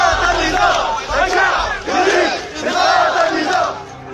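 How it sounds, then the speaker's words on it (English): A protest crowd in Sudan chants slogans in a rhythmic call, many voices rising together in repeated loud phrases with short dips between them. "Crowds chanted slogans from the Arab Spring revolutions of"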